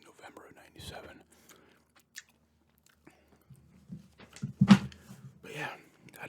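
Close, quiet gum chewing with soft wet smacks and crunchy bites in irregular bursts, alongside faint whispering and paper rustling from a Goldeneye 007 strategy guide.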